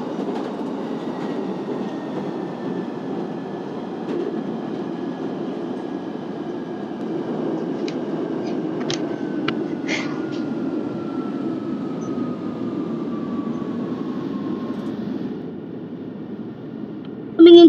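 A simulated London Underground Central line train in a video game rumbles steadily along the track near St. Paul's with a faint whining motor tone and occasional clicks, ending in a sudden louder burst.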